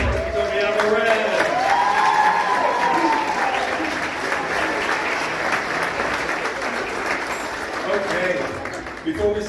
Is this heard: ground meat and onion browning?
no